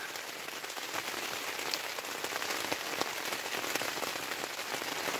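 Steady rain patters on a budget Naturehike tent during a wild camp in south-east Scotland, a dense continuous drumming of drops close overhead with no talk.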